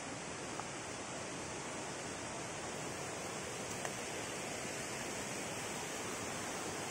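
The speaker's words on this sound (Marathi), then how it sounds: "फक्त पाण्याचा आवाज येतो." Steady broadband rush of waterfall water in a dense jungle near Barki, Kolhapur, a continuous roar filling the scene without voices.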